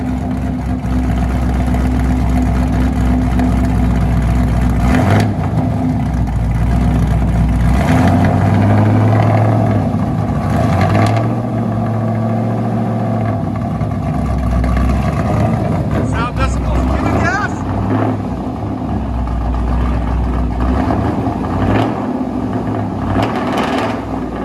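A cammed 6.2-litre 2010 Chevy Camaro SS with true dual straight-pipe exhaust and long-tube headers revs loudly and repeatedly, lumpy idle between sharp blips, with people talking over it.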